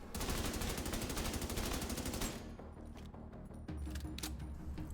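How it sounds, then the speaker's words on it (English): Fully automatic assault rifle fire from The Division 2 rattles in a rapid, evenly spaced burst for about two seconds, then gives way to scattered distant shots and echoing combat noise. "Assault rifles, which are fully automatic and excel at medium range"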